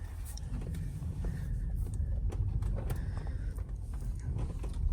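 Interior of a quiet car used for delivery work, driving along with a low steady road rumble and soft engine hum, faint and continuous with occasional small clicks and no talk.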